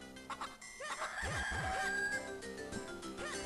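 Chickens in the Game Boy Advance game Zelda: The Minish Cap cluck and crow in a dense run of chirpy calls, layered over game music and sound effects.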